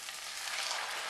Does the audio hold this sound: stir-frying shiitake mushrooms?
yes